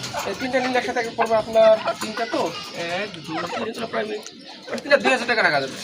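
Two roosters and a hen, middle-aged birds being sold, cluck in short bursts close by, partly masked by people talking over them.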